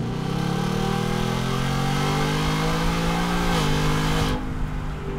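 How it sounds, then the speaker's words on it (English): A stock 2019 Ford Mustang GT V8 of 400-plus horsepower roars steadily and loud as paddle downshifts blip the revs, the engine note stepping up through the gears before cutting off abruptly near the end. "Let's downshift this thing a few gears with these paddles."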